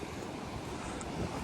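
Rough sea waves churn around Khanderi Fort off the Alibag coast, a steady, dense roar of surf mixed with wind noise on the microphone. The sound stays constant throughout with no talking.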